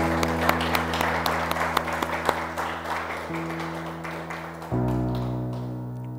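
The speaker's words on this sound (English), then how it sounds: "Let's all give a hand clap to the Lord." A church congregation clapping hands during a Sunday service, quick scattered claps at first that thin out over sustained organ-like musical tones, fairly close and lively.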